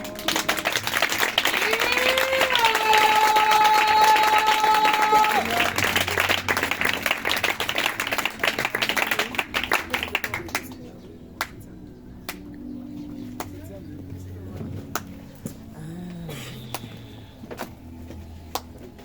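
A church congregation claps and cheers in praise during a worship service, dense rhythmic applause mixed with crowd voices and a sustained tone that thins after about ten seconds into scattered, sparse claps.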